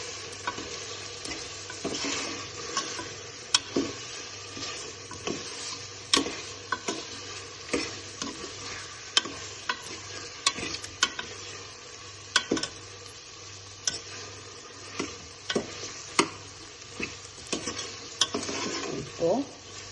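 Chicken biryani masala with two chicken leg pieces is stirred as it fries in a pan, giving a steady close sizzle broken by frequent scraping stirs.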